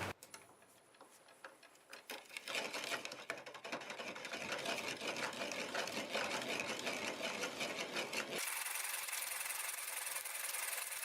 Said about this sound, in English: I'm going to take this Forstner bit and just drill that post out of the way.